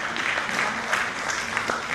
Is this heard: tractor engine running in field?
no